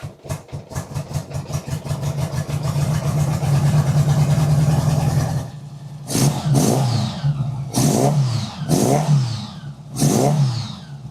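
A 1975 Honda Goldwing engine fitted with a DynaTek ignition runs close by: a fast, even throbbing idle first, then several sharp revving blips that rise and fall with short pauses between.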